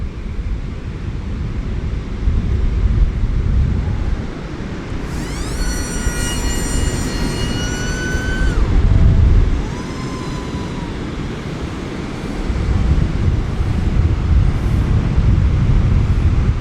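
A TBS Chupito model plane makes a slow pass on a windy day, its motor whining up in pitch and then easing off over steady wind buffeting and rumble, with a brief second whine trailing after.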